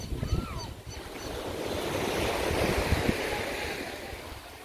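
Ocean waves on the beach at Punta Novillo, Amapala, Honduras, a broad steady wash of surf swelling and easing at moderate distance, with a brief honk-like call near the start and no talk.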